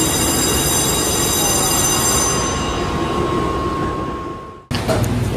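A train pulls into a station in Taichung, Taiwan, its wheels squealing in a long steady high whine over heavy rumbling rail noise, fading as it slows to a stop, then a sudden shift to quieter platform ambience.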